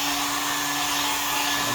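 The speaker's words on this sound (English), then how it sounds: "My trusty hair dryer from like 1970 or something." A vintage hair dryer from around 1970 runs at a steady loud whir with a constant hum, unbroken and alone for a short stretch.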